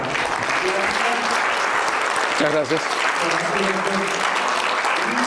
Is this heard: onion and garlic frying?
no